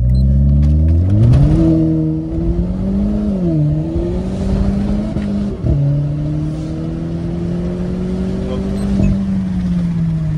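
Renault Clio 4 RS Stage 1, 250 hp, with a stainless exhaust line, accelerating hard from a standstill toward 100 km/h, engine loud and close as it revs up, shifts and pulls steadily.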